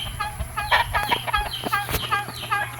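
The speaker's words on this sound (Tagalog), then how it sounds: "ni siya amo ang mga alagang manok" Pet chickens being bathed cluck repeatedly at close range in quick, uneven bursts, with a steady background hum beneath.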